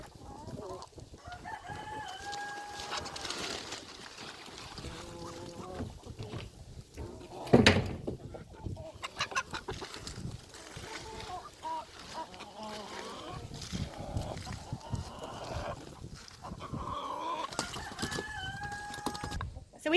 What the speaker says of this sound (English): Chicken's getting in the way.